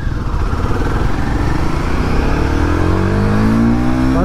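A Royal Enfield Guerrilla 450 motorcycle is ridden through its gears. Its close, loud engine drones steadily, then climbs sharply in pitch as it revs toward the end, with no voices.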